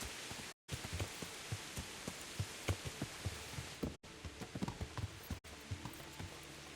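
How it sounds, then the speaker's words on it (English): Steady rain falls in the medieval open-world game Kingdom Come: Deliverance, a dense, even hiss with regular soft thuds underneath and a few brief dropouts. "It's still raining"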